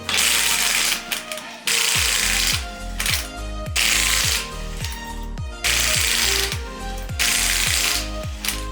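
Car wheels being removed with a ratcheting wrench, loud bursts of rapid clicking ratchet spins alternating with brief pauses, repeated several times close up.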